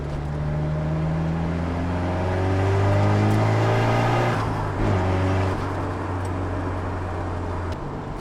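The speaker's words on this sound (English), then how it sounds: "If you guys recognize the sound of that motor, it's definitely an SR20." A Nissan 180SX with an SR20 engine runs steadily nearby, a low droning idle that swells briefly in revs midway before settling back, with no talking.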